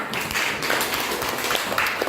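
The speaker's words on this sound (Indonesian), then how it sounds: "Tepuk tangan" A group of children clap their hands together in a classroom coaching session, a quick, steady patter of close claps running through the whole stretch.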